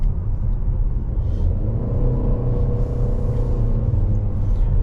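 A 2023 Chevrolet Malibu 2LT rounds a curve on the road, its steady engine and tire rumble loud and close throughout, with no talk over it.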